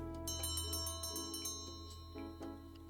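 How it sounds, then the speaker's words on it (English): A bell in the video game Penny Larceny rings with a rapid series of bright, metallic strikes, followed by a couple of slower tolls, fairly faint with a lingering tonal hum underneath. "the bell rings, ending the first round of speed dating"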